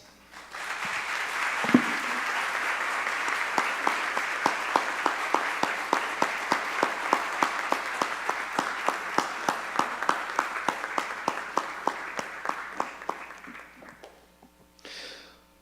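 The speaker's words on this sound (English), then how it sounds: "so we can all take a moment to applaud you in that moment" At a school district tenure and retirement celebration, an audience applauds a retiree walking to the stage. The clapping swells quickly, then settles into a long run of sharp, rhythmic unison claps before fading away.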